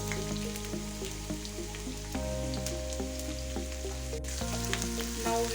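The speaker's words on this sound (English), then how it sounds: "Now the oil is hot. To this I am adding 2 roughly chopped onions." Two roughly chopped onions sizzling in a tablespoon of hot oil in a pan, a steady crackling fry with scattered pops, moderately quiet and continuous throughout with no voices.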